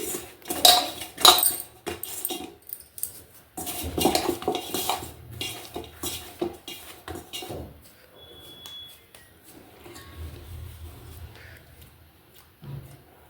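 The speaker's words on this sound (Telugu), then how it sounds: "మళ్ళీ ఒకసారి కలుపుకుందాం." A spoon clinks and scrapes against a metal pan while sugar syrup for madatha kaaja is stirred, giving loud irregular clatters early on that thin out into softer scraping and occasional taps.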